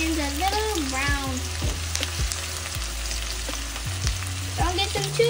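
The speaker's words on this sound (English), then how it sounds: "Now we mix. You have to get the onions a little brown." Onions fry loudly in a pan as a utensil stirs them, with a steady close sizzle and repeated scraping knocks throughout and no talking over it.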